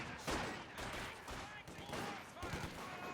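Machine gun fire in a Company of Heroes match: dense, rattling bursts of rapid shots that overlap with other gunfire, staying loud and continuous for the full stretch.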